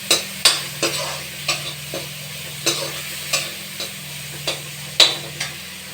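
Fried rice is stirred in a kadhai, an Indian wok, in a home kitchen. A spatula scrapes and clinks against the pan in a steady rhythm, about twice a second, over a low, continuous sizzle, heard up close with no talking.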